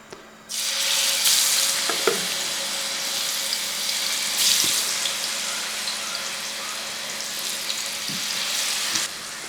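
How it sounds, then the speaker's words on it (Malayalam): Fish pieces drop into hot coconut oil and set off a loud, continuous sizzle and crackle that flares sharply at the start and again midway, with a few faint clinks over the steady frying. "അപ്പം എണ്ണയൊക്കെ ചൂടായ ശേഷം നമുക്ക് ഈ മീൻ ഓരോന്നും അങ്ങോട്ട് പരക്കിയിടാം"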